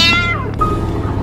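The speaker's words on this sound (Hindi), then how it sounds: "लगता है बिल्ली है।" A cat meows in a single drawn-out, falling call lasting about half a second, heard close and clear over a steady low hum, set in a staged devotional drama.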